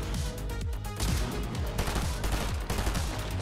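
Gunfire in the video game Fortnite comes as a rapid burst of loud, close shots fired in quick succession, with no talk over it.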